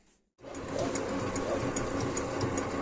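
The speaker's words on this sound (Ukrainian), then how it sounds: "І зараз, коротше, просверлюємо" A power drill with a 16 mm bit bores through a vehicle wheel hub. After a brief quiet start, it settles into a steady, continuous motor whine with a faint rhythmic chatter, close and fairly loud.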